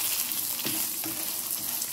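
Coconut, cloves, cinnamon, cardamom, cumin and a little fenugreek fry for sambar, a steady close sizzle with faint stirring scrapes and no voices.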